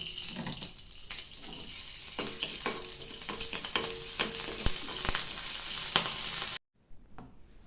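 Bird's eye chilies hitting a pan of sautéed garlic, shallots and fenugreek for a Kerala fish curry, a bright continuous sizzle with utensil clicks and scrapes, cutting off abruptly near the end.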